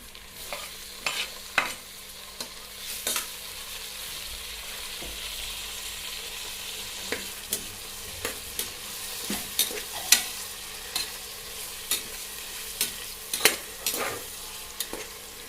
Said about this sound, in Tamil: அதுக்கடுத்தது தக்காளியும் தேங்காய் அரைஞ்சி வச்சுருந்தோம்ல அது ரெண்டையும் போடுறோம்.